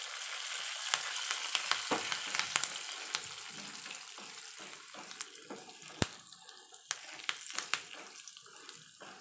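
Lentils and curry leaves frying in oil for tamarind rice, a steady close sizzle and crackle broken by sharp pops and clicks of stirring, with no talk.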